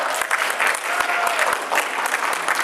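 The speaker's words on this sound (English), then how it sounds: "give yourself a round of applause" An audience at a conference in Orlando, Florida, claps together in a dense, continuous burst of applause, lively and sustained for a few seconds.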